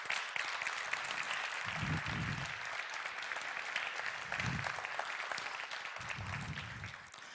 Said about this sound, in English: So a big applaud to all of our teams.